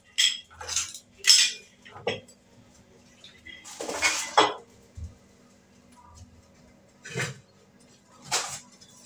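A cooking pot greased with ghee and cocoa is handled in a kitchen, giving scattered metallic clinks and knocks in short bursts with quiet gaps between them.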